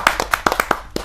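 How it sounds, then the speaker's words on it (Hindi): Audience at a Hindi poetry gathering clapping to welcome a poet, a short burst of crisp, close claps in a quick, slightly uneven rhythm. "आप तालियों से स्वागत कीजिए सुरेश धनोरा जी।"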